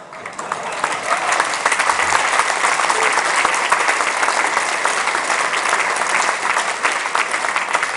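Loud, dense crowd applause at a Green party Ash Wednesday political rally in Biberach, a continuous roar of many clapping hands that stays strong and even throughout.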